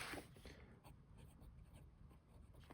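A fine-nib TWSBI Diamond 580 AL fountain pen in rose gold writes on paper, making a soft, faint, continuous scratch with small irregular strokes close to the listener.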